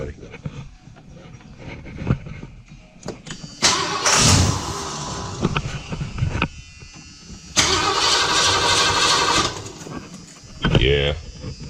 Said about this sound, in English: Cranks over no problem now.